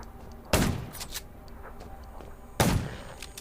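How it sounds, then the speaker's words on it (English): Two sharp gunshots ring out about two seconds apart in the zombie survival game Undown, each a loud crack with a short decaying tail over a low steady game background. "Gunshots will attract more zombies"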